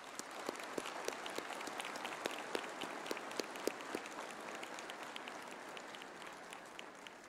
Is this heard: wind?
no